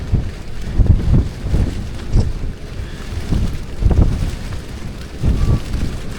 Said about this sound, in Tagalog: Lakas ng ulan mga tropa.